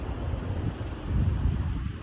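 Steady, loud outdoor wind buffeting the microphone during a nature walk, a constant broadband rush that swells slightly partway through.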